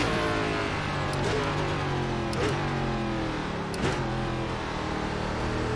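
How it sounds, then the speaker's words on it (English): Race car engine in the iRacing sim on the Indianapolis road course, an ARCA Series stock car, droning steadily and loud with repeated brief rev blips as it downshifts, no talk over it. "Waited to downshift to first there until I got it slowed enough"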